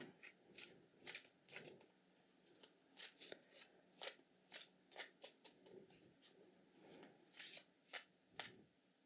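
Slightly sticky tarot cards are shuffled up close in a series of quick, crisp riffling bursts with short pauses between them, soft and intimate with no voice.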